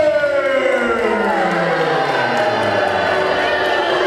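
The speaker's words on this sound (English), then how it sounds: "This crowd really letting them know how they feel, and it's not a good feeling." Wrestling crowd at an All Pro Wrestling gym show reacting loudly and disapprovingly to the tag team entrance, a sustained roar of voices with a rising siren-like wail sweeping through the noise throughout.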